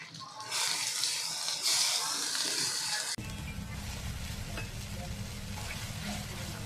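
Masala being stirred and fried in a pan for Maharashtrian misal pav, a close, steady sizzle with scraping stirs, brief water splashing early and a voice talking faintly.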